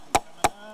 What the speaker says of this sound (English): The Spokane Indians organization hammering